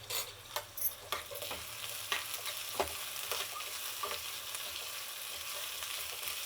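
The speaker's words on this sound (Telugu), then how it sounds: "ఎర్రగడ్డ కూడా బాగా వేగాలి." Onion and curry leaves fry in hot oil with a steady sizzle, a utensil stirring and scraping the pan in sharp knocks and clatters close by, with no voices.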